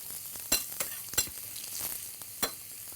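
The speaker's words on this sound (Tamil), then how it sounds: "இப்போ இது வந்து நல்லா ரோஸ்ட் ஆயிடுச்சு வெங்காயம்" Onions roasting with salt in a pan give a soft steady sizzle, broken by a few sharp stirring scrapes and clinks spaced through the stretch, close and moderately quiet with no talk.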